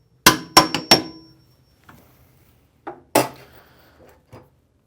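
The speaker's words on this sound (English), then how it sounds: "use our hammer to tap it back through" A hammer taps a steel hinge pin through the lid of a Henny Penny 4-head pressure fryer: three quick sharp metallic strikes, then a pause and a single harder strike, with faint clinks of handling in between.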